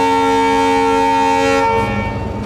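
A Kolkata Circular Railway local train sounds a long, steady, loud tonal horn-like blare for about two seconds, which then fades into rumbling train noise.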